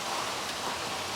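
Steady rain falling outdoors in Chicago, a continuous even hiss of drops with no breaks, fairly close and alone without any voices.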